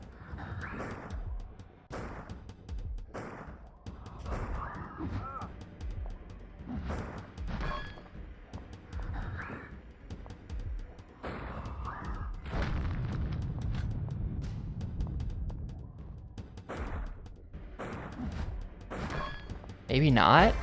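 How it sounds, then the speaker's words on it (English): Gunfire in the video game Curse: The Eye of Isis, a series of booming shots and thuds at irregular intervals, mixed with game ambience and people talking throughout. "We're gonna actually need to shoot some stuff here."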